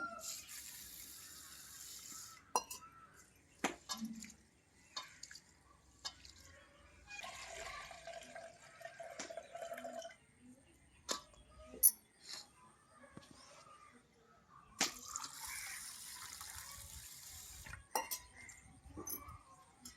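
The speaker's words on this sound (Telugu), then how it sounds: "ఇప్పుడు నేను బియ్యం అయితే కడుక్కుంటున్నానండి" Water swishes and sloshes as rice is washed in a metal pot, with clinks of grains and vessel, repeated in bursts amid soft talking.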